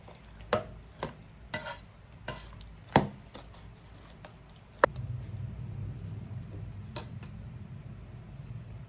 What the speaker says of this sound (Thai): แล้วก็คน ให้ข้าว เรียงเม็ดดีเลยค่ะ ไม่ให้จับตัวกันเป็นก้อนค่ะ